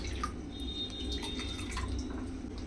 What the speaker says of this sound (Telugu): 1 గ్లాసు రవ్వకి 3 గ్లాసు వాటర్ వేస్తున్నాను